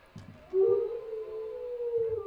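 A dog or wolf howls in the horror video game Home Sweet Home, a single long, sustained, steady-pitched howl over a low ambient backdrop with faint thuds.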